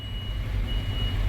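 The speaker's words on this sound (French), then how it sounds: "Super le camion de livraison quoi." Reversing beeps from a delivery truck, a steady high-pitched warning tone over a low rumbling engine idle, continuous and moderately close, with no talk.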